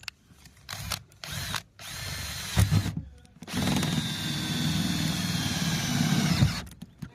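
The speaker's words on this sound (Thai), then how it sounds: "เสร็จแล้วก็ยึดน็อตลงไปครับ" A power drill drives bolts into solar panel mounting brackets on a 10 kW on-grid rooftop installation, whirring loudly in short bursts and then one long continuous run, close up and without talk.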